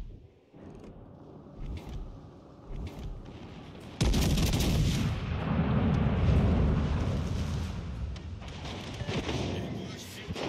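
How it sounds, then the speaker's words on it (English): In the World of Warships Legends naval game, a battleship's main guns fire shells. Softer distant rumbles give way to a sudden heavy boom that swells into a loud, sustained roar of gunfire and explosions. "I literally just missed 8 shells at this range on a fucking Alaska."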